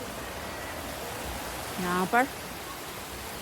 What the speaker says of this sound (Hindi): है जी छोटा सा झरना